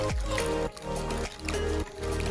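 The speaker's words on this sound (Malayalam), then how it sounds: "ഞാൻ വെള്ളം ഒഴിക്കുന്നതാണ്" Water pours in steady bursts with brief pauses between them into roselle juice, a close, full gurgling stream filling a container.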